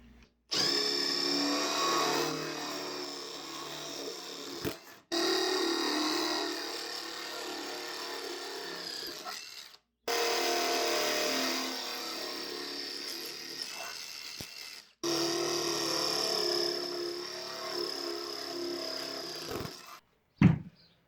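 A power drill with a 1/4 inch bit bores a starter hole, lubricated with cutting oil, in four loud sustained runs of about five seconds each, separated by short pauses, close by with no talking.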